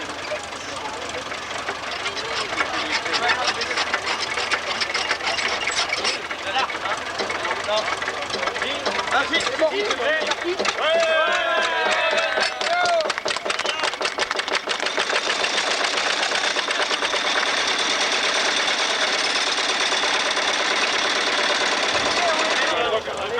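An old 1903 Renault engine runs steadily and loudly with a fast mechanical clatter and knock throughout, people talking over it at times.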